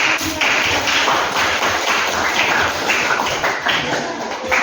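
A classroom of students applauds a group's presentation with dense, continuous clapping that stays loud and close for several seconds.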